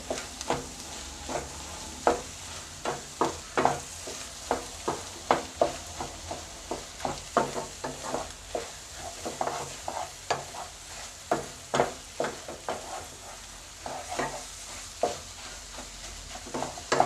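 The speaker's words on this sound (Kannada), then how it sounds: "ಮೊಟ್ಟೆನ ಚೆನ್ನಾಗಿ ಫ್ರೈ ಮಾಡ್ಕೊಬೇಕು" Eggs frying in a pan for egg rice, with a soft sizzle under rhythmic scraping and stirring strokes that repeat steadily throughout, close and fairly quiet, with no one talking.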